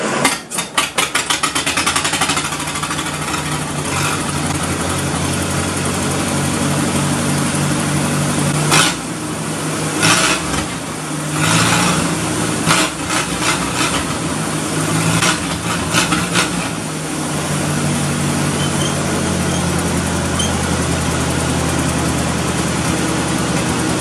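A Massey Harris 30 tractor engine with a flooding carburetor runs loud and close after a long rest, its rough idle chugging steadily, with a few uneven stumbles and revs in the middle.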